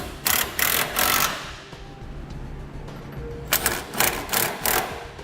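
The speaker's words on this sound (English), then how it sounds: "Now we'll tighten up our side plate bolts, starting with the 5/8 inch bolts." A ratchet tightening 5/8-inch side plate bolts during a B and W gooseneck trailer hitch install on a 2012 Chevrolet Silverado, heard as close bursts of rapid clicking in two groups with a quieter gap between them.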